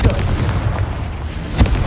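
A Confringo spell explosion in the Hogwarts Legacy game. One loud, booming blast opens the sound, and a second sharp burst comes near the end over a rumbling background.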